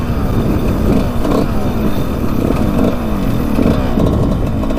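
A Suzuki RM125 two-stroke dirt bike engine held at full throttle, a loud, steady, buzzing drone close by with no letup.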